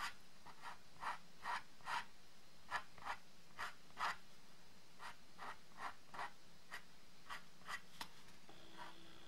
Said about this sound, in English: Let's go with a deeper cut, you know, so you can see it a little bit more better. Okay, scratching into it deeper.